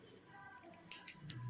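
Scissors snip through crochet yarn while finishing an amigurumi Winnie the Pooh ear, giving two or three short, crisp close-up cuts after a quiet stretch.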